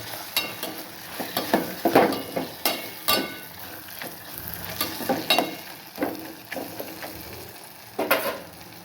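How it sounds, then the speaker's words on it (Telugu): Tamarind frying in hot oil in a pan for Andhra pulihora, a steady sizzle broken by repeated stirring scrapes and clinks of a spatula, close and fairly loud, with no voices. "ఆయిల్లో వేగుతుందండి"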